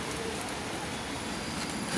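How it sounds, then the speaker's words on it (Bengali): Light rain pattering outdoors near a garden with hibiscus plants, a soft, even, continuous hiss of drops with no distinct events and no voices. "বৃষ্টিও পড়ছে টুকটুক করে"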